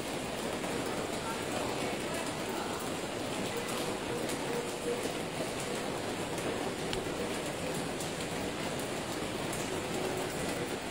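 Steady rain falls on the streets of Jiufen, Taiwan, a continuous soft hiss with faint patters and occasional indistinct background sounds throughout.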